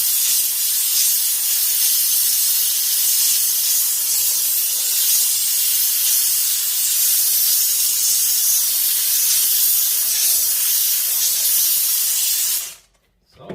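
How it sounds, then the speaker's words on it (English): Steam cleaner hissing steadily as it sprays steam inside a Mazda Miata, a loud continuous broadband hiss held for about twelve seconds before cutting off abruptly. "Now this isn't going to harm any electronics or anything like that because it's just steam."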